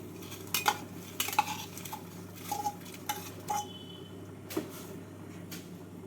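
Salt and soaked rice going into a pot of boiling water for Bengali beresta rice, heard as a series of spoon clinks and metal taps against the pot over a low, steady bubbling hiss.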